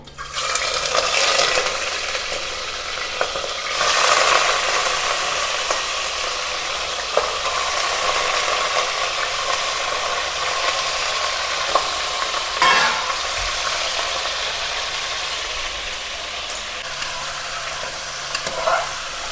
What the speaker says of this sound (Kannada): ಎಣ್ಣೆ ಕಾದಿದೆ ಎಣ್ಣೆಗೆ ಮಟನ್ನ ಹಾಕೋತಿದ್ದೀನಿ